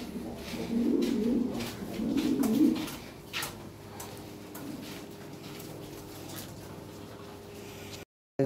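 Lahore Siraji pigeons coo in soft, low bursts, two louder rounds early on, then quieter cooing and faint rustling continue over a steady background hum.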